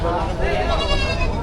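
A goat at a crowded livestock market in Padre Garcia, Batangas, gives a wavering, nasal bleat. It sounds close and steady over a background of busy chatter and market voices.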